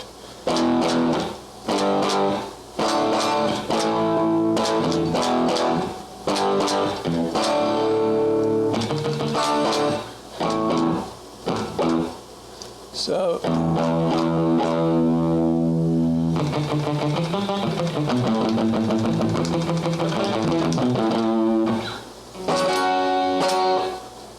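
Electric guitar played through Amplitube amp-modelling software with distortion and overdrive, loud gritty chords and riffs with sustained notes and brief gaps, continuous and up front for the whole stretch, no talking over it.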